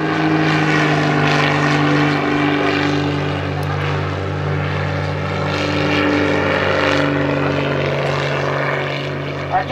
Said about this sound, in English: the maneuverability of the airplane at slow speeds